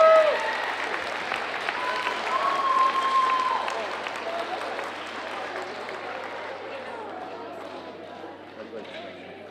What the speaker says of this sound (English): give a big round of applause to Varian Colette